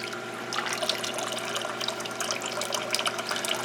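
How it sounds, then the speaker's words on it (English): Water trickles and splashes steadily as an airline siphon tube drains aquarium water into a bucket for fish acclimation, a continuous close, moderate gurgle with no talk. "you can see the rate that the airline siphon is bringing the water out into the bucket"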